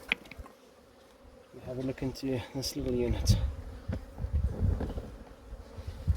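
Honey bees hum around small mating nucs outdoors, a low continuous buzz that swells as someone speaks over it at close range.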